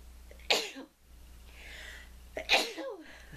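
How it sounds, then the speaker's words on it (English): Two sharp sneezes about two seconds apart from one person nearby, each followed by a brief breathy catch, with quiet room tone between. "Oh, I'm going to sneeze."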